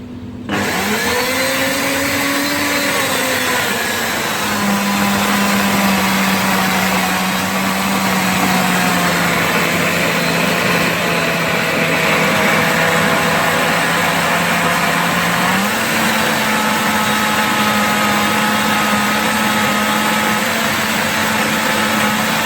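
A blender motor whirs steadily and loudly while blending kimchi spices, its pitch shifting slightly partway through, with no talking.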